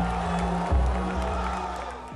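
A stadium audience at the 2017 Jeux de la Francophonie in Abidjan roars and applauds a football trick, a dense, continuous wash of crowd noise that holds steady throughout without distinct individual claps.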